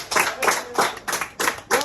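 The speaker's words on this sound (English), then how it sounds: "We just need your help to clap along like this." A crowd at a Super Nintendo World birthday celebration in Universal Studios Hollywood claps along in unison, six or so strong, evenly spaced beats, with voices faintly underneath.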